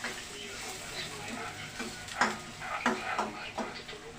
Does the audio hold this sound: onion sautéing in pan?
yes